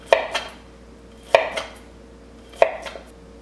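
A knife slices through plantains onto a board in three evenly spaced sharp taps, each with a softer follow-up knock, close and quiet.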